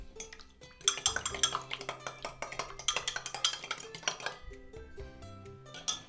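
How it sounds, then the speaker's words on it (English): Fork whisking an egg into milk in a bowl makes quick, rhythmic metallic clinks and taps against the dish, close and steady, with faint background hum. "we're going to add an egg to our milk. And then just use a fork just to whisk that together."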